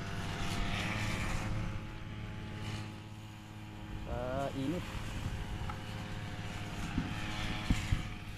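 An irrigation water pump engine drones steadily in a field, a constant low mechanical hum throughout, while someone talks over it and a brief whistling or creaking tone rises midway.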